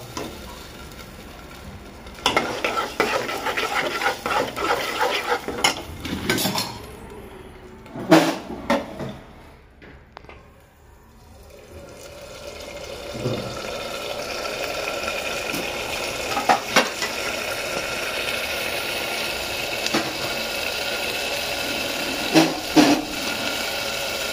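Paneer going into a pan for pulao, with metal spoon stirring and scraping and faint sizzling, in bursts early on and again near the end.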